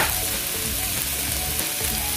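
Carrots sautéing in a pan for a tripe stew, a loud, dense, continuous sizzle close to the pan with no voices.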